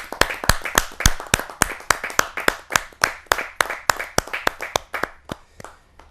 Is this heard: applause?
yes